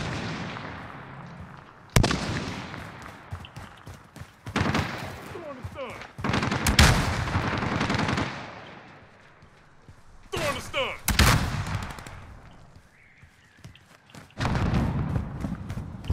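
Gunfire in a team shooter game, a riot-shield squad mode: repeated bursts of shots come and go in loud clusters, separated by quieter stretches, with players talking over the action.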